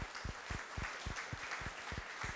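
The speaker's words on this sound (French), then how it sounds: "Voilà, exactement, on les applaudit." Audience applause for participants at a writing workshop during a food festival, a short run of fairly regular claps with low thumping beats beneath, modest in volume and evenly paced.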